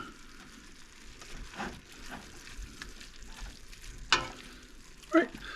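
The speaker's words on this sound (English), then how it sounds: "I'm going to cook this for a few minutes, like I said, so the onions get translucent" Onions sizzle in a pot as the base for a creamy tortellini soup, a steady low frying hiss with a couple of sharper pops and stirring clatters near the end.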